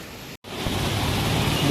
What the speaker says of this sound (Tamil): வெள்ளம் பெருக்கெடுத்து செல்லும் காட்சி.